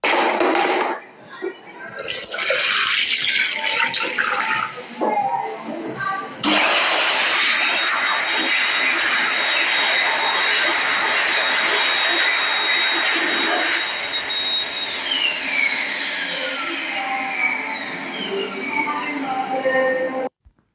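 A GSQ 90 hand dryer in an accessible toilet at Blackpool Pleasure Beach runs with a loud, steady mechanical roar of rushing air, almost continuous, with a short dip near the start and a slight pitch drift toward the end.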